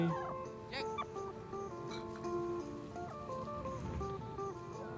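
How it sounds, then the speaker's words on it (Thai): A large flock of farm chickens in Canada clucks and calls in the evening, overlapping bursts from several birds nearby over a low background hum. "ไก่เยอะแยะเลยครับ"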